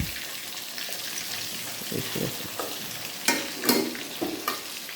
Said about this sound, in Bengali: আমি একটু এই জিরা দিয়ে দিচ্ছি ভাজার সময়, নাহলে মাছের মধ্যে একটা গন্ধ হয়।